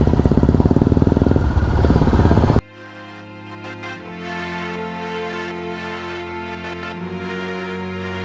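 Motorcycle engine running steadily and fairly loud, a borrowed bike ridden on a trek trip in Goa; a brief burst of broadband roar opens before the tone settles into an even mid-pitched drone.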